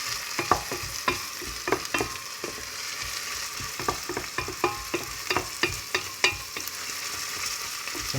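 Onions frying and being stirred in a pan on the way to browning, for a homemade bolognese sauce. A steady sizzle is broken by frequent clicking scrapes of the spoon, close and continuous, with no talk.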